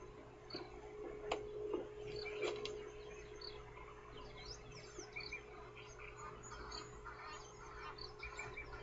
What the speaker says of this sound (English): It's looking out at some Egyptian geese that are flying past in the distance.